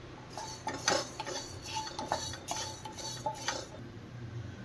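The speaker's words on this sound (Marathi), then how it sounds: "तर मी आता पहिले धणे भाजून घेते, थोडासा रंग पलटेपर्यंत आपल्याला भाजायचे आहेत।" Coriander seeds dry-roasting in a pan for bakarwadi filling rattle softly as a spoon stirs them, repeated scraping clinks in an uneven rhythm, fairly quiet and close, no talk.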